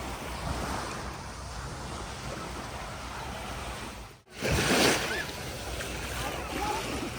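Ocean waves wash steadily onto a beach in Pattaya, a continuous rushing surf with wind across the microphone and a louder splash surge after a brief dropout.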